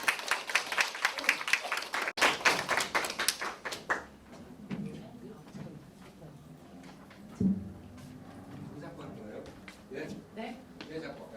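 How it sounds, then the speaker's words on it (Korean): Dense clapping from a lecture audience welcoming a speaker fills the first few seconds, then fades into scattered claps and murmuring voices. "큰 박수로 모시겠습니다."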